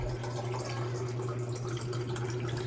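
Steady stream of water pouring into a container, a continuous close splashing fill with a low mechanical hum underneath.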